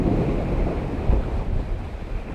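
Strong wind at a glider flying field buffets the microphone, a loud continuous low rumble and roar with gusty swells throughout.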